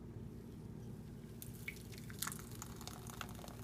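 Thick roasted tomato and red pepper soup is poured into a bowl, soft wet dripping and squishy plops arriving after a quiet start, close and faint over a low steady background hum.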